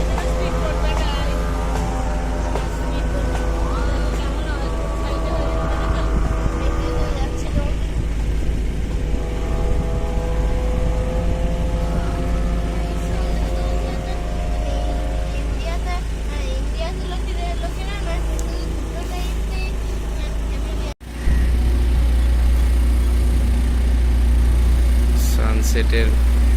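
A speedboat motor on the Alleppey backwaters of Kerala drones steadily and loudly throughout, a continuous engine hum with a brief dropout near the end before resuming.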